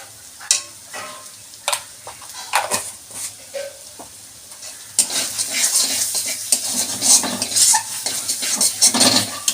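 Masala for katla rezala, a fish dish made with sour yogurt, being stirred and fried in a pan, with sharp scrapes and clinks of a spoon on the metal over a sizzle that grows louder partway through.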